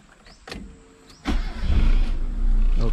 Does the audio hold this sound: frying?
no